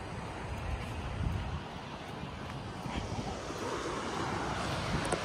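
Wind rushing across the microphone with soft surf washing in the background at Situbondo beach, a steady broadband hiss that swells slightly at moments.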